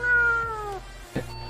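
A cat meows near a motorway rest stop during a Euro Truck Simulator 2 multiplayer drive through Austria and Denmark, one long drawn-out meow followed by a short second call, clear and close.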